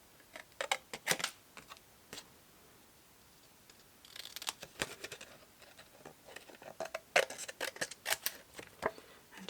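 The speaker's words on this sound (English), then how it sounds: "And then these, I'm going to snip by hand." Scissors snip paper by hand while trimming a snowflake shape for a gift box for mini wine bottles, making sharp, close, irregular clicks that come sparsely at first and then in quicker clusters.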